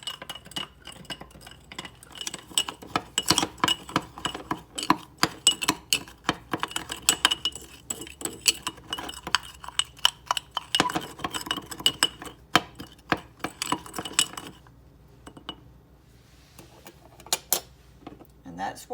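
A spoon stirs a sugar, borax and water mixture inside a jar, making rapid, irregular clinks and scrapes against the glass that continue for several seconds before thinning out toward the end.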